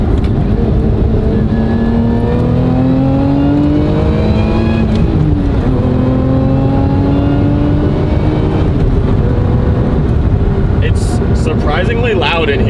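A British car's supercharged V6 engine drones loudly from inside the cabin with a rising supercharger whine as it revs, steady and close throughout.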